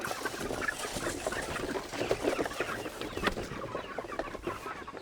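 A flock of broiler chickens clucks busily and continuously right around someone's feet, close and fairly loud, with no one speaking.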